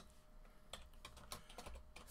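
Keys tapped on a computer keyboard while entering text into a web page, a quiet, irregular run of close clicks with short pauses between them.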